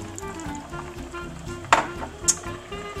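Cream poured into a pan of sizzling cooked shrimp, a soft steady fry under light kitchen clatter with a sharp clink of utensil on pan partway through.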